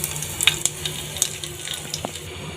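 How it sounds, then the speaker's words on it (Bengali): Cumin, bay leaf and a pinch of garam masala crackle in hot oil in a kadai, a close, steady sizzle with scattered sharp pops and small clinks. "কড়াইতে দিয়ে দিলাম তেল, আর এখন ফোড়নে দিয়ে দিচ্ছি জিরা, তেজপাতা, একটু গরম মশলা"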